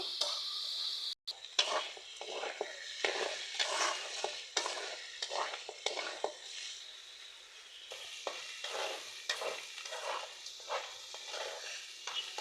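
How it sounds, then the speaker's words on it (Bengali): Bitter gourd and potato frying in a pan, stirred with repeated scraping strokes over a steady sizzle, close and fairly quiet, with no voices. "এখন আমি একটু নেড়ে চেড়ে আর একটু ভাজা ভাজা হলে নামিয়ে নেব"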